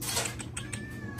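Cat meowing close by, a short plaintive call followed by faint creaks and small clicking sounds in a quiet room.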